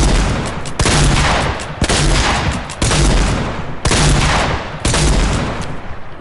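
Video game gunfire, loud and close, arriving as about six dense bursts of rapid shots, each roughly a second long and separated by brief gaps, with no talking.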